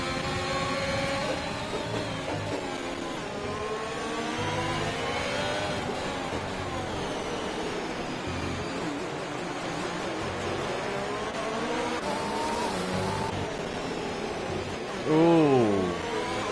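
Sim racing game race cars in Mexico City, engines whining and rising and falling with gear shifts as several cars battle close together, under continuous commentary.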